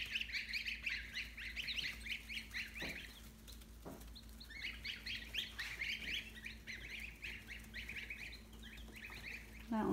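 Young geese in a brooder give a near-continuous chorus of high, shrill peeping calls in bursts, over a low steady hum, with a few short knocks and no talking.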